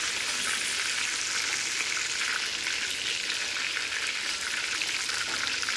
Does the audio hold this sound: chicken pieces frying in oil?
yes